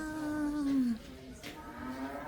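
A single low, drawn-out moo from an artificial cow, falling in pitch, followed by a fainter tonal hum and background noise.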